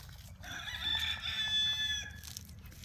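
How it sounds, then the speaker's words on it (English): A rooster crows once at a distance, a faint, drawn-out call lasting about a second and a half over low background rumble. "I'm pretty sure that's a rooster."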